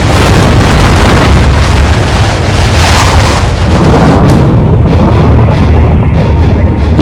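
A massive roaring nuclear blast rumbles continuously, a dense broadband boom that swells and slowly rolls off, loud and overwhelming.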